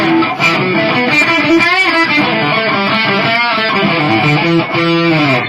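Loud, heavily overdriven electric guitar through a Peavey ValveKing amp with boost engaged, playing continuous chords and riffs with a thick, saturated tone, no voices.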